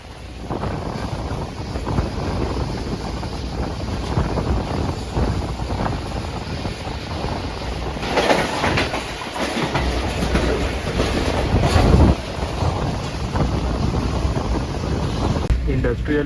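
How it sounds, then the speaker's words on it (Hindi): The Shalimar Express passenger train runs toward Lahore near Sheikhupura at about 60-65 km/h, giving a continuous rumbling ride noise with wind buffeting on the microphone, steady and fairly loud throughout. "ट्रेन मामिया कॉलोनी फाटक की तरफ जो अप्रोच है वो कर रही है।"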